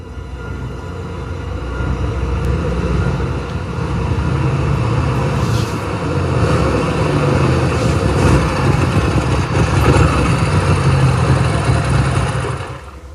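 A motorcycle engine runs steadily throughout, a continuous low rumble that fills the scene with no talking over it.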